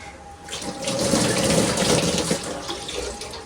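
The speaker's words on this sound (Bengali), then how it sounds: "এখানে কাপড়টা গরম জলে ভিজিয়ে দিলাম" Tap water runs into a sink as cloth soaks in hot water, a close steady splashing gush that swells and then eases slightly, with no talking.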